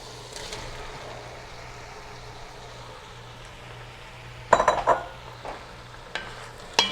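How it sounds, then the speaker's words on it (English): Tomatoes stirred into onion, garlic and oil in a pan on the stove, a low steady sizzle running throughout with a few sharp utensil scrapes and clinks near the end. "Stir these in with the onion and garlic and oil."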